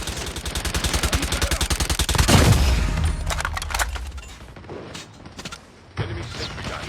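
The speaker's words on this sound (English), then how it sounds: "Be advised, hostile sentry gun spotted." Rapid automatic fire from a hostile sentry gun in a Call of Duty multiplayer match, a fast steady stream of shots for about two seconds, followed by a heavier burst and scattered gunfire and impacts.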